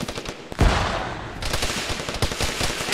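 Rapid automatic gunfire in the video game Arma 3, a loud sustained burst with a heavy shot near the start, continuing as dense crackling fire.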